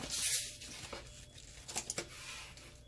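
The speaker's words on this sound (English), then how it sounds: "So we're just going to cut open this meat." Corned beef packaging is cut and torn open, a close, brief plastic rip at the start followed by several sharp crinkles and small snaps of the wrapper, fairly quiet overall.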